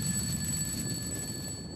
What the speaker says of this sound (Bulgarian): След като специално подготвената аларма оповести края на дрямката